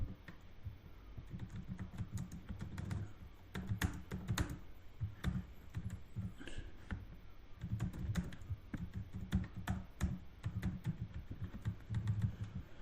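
Steady keystrokes on a computer keyboard while code is typed, close and fairly quiet, running continuously in a fast uneven patter with no talking.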